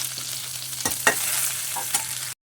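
Cumin, curry leaves and fresh grated coconut fry in a spoonful of hot oil, a close, continuous sizzle with a few sharp crackles and stirring clicks, no voices.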